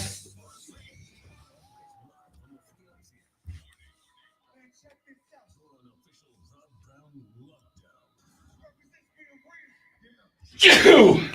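A single loud, sharp sneeze bursts out near the end, following a long near-silent stretch broken only by a few faint, scattered mouth noises and a brief thump on a live sports radio show.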